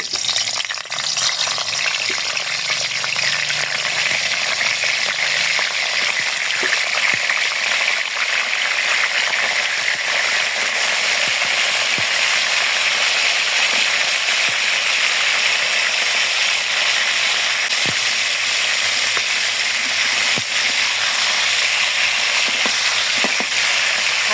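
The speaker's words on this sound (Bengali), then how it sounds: "কড়াইতে তেল দিয়ে দেব তেল গরম হয়ে গেছে হালকা একটু ভেজে" Hot oil crackles and sizzles steadily in a wok while frying for a village-chicken biryani, a loud, sustained frying hiss with scattered sharp pops and clicks of stirring.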